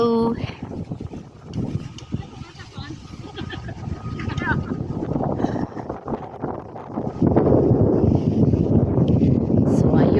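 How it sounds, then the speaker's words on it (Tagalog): Strong wind gusting against the microphone outdoors, a dense broadband rumble that grows louder and steadier in the second half, with a voice talking over it early on. "Medyo sobrang mahangin siya."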